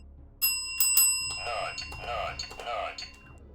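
A bright bell chime alerts a stream subscription, ringing out in a sharp strike followed by several repeated ringing tones with a sustained shimmer, close and fairly loud, under a low game music bed.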